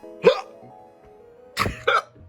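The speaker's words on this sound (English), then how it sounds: "This radio is so bad, it gave me the hiccups." Three sharp hiccups, one early then a close pair about a second later, loud and near, with quiet radio-like hum and faint background between them.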